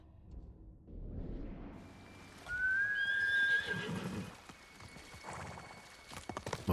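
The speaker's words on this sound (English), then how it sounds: "Come on, horse, keep up." A horse neighs loudly in the Ghost of Tsushima video game, a clear whinny rising over the soundscape, with hoof clip-clops and movement noise before and after it and no talking.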